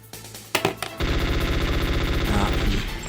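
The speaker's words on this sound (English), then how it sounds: "And he will shoot at Meryl" Rapid automatic gunfire sound effect from a Metal Gear Solid board game played in VR, a few separate shots followed by a sustained, loud, evenly pulsing burst that runs to the end.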